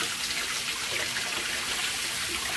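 Water is poured steadily over a metal panel coated in Wisconsin Hydrographics heat-changing automotive paint, giving a continuous close splashing wash with no talk.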